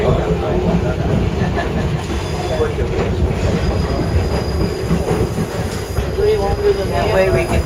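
A White Pass & Yukon Route Railroad train rumbles steadily along the rails with a continuous rolling roar and faint wheel squeals, heard from on board at fairly loud level.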